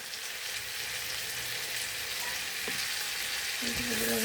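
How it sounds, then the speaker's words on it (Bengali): Fried rice sizzles steadily in a pan, a dense continuous frying hiss with a few soft stirring knocks near the end, close and fairly loud with no talk. "ফ্রাইড রাইসটাকে রান্না করি, আমি সব একসাথে দিয়ে তারপরে রান্না করে ফেলবো"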